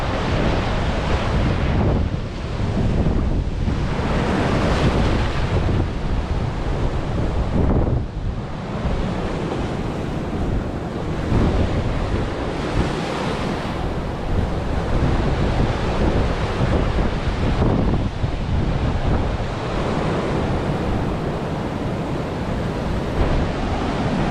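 Storm waves driven by a hurricane crash repeatedly against and over a low Florida seawall, surging roars rising and falling in loud waves beneath constant gusting wind rumble on the mic.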